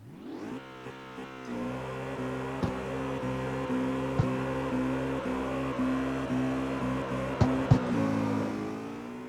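Audi RS7 all-wheel-drive car doing a burnout in the CarX Street video game, the engine revving up and then holding a loud, steady high-rpm roar, with brief sharp pops and bangs breaking in.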